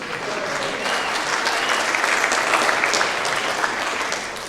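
Steady applause from a rally crowd in a theater, dense and sustained throughout, with faint voices mixed in.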